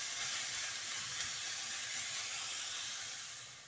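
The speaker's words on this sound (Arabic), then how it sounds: "نقلوه مليح مليح حتى يطلق الماء ديالو" Sliced onions for an onion quiche sautéing in a pan, a continuous bright sizzling hiss that holds steady and then eases slightly toward the end, close and even, with no voices.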